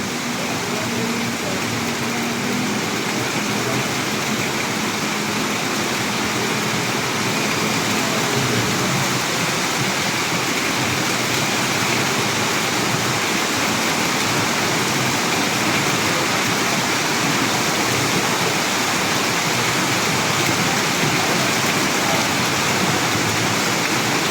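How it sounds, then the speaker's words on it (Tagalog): Heavy rain pours steadily, a dense continuous roar of water with gusts of wind mixed in, loud and unbroken throughout. "Biglang bumuhos ang ulan may kasamang hangin."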